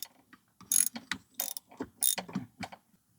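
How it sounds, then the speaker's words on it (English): Ratchet wrench tightening a spark plug back into a 2020 John Deere Gator XUV 590M, a series of close, sharp clicking bursts in an uneven rhythm with short pauses, no talking. "now you're going to go ahead and ratchet that baby back in there like that"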